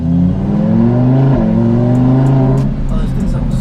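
A Lamborghini engine revs hard while driving, its note climbing through a gear change and then easing off. Voices talk over it and faint ticks are heard near the end.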